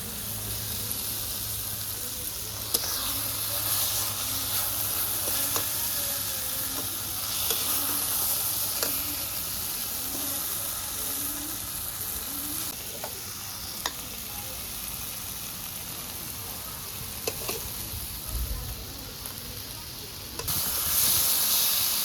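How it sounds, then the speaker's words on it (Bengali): Fried fish sizzling in a browned spice paste, a continuous soft hissing crackle with occasional light taps of a spatula, steady and close, no voices heard. "এর মধ্যে এবার ভাজা মাছগুলো দিয়ে দেবো"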